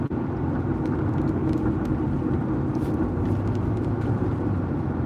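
A truck trails close behind on a street, its engine and tyres making a steady, dense low rumble that holds unbroken for the whole stretch, with no voices over it.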